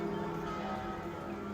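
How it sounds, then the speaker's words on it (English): Bells in a bell tower ring through a computer speaker, a steady tolling drone layered with sustained tones, moderately loud and without voices. "This is like the bell tower going."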